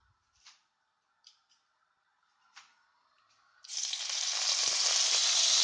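Anchovies hit a hot casserole where lamb shanks have been seared, setting off a sudden loud, sustained sizzle after a few soft clicks and taps.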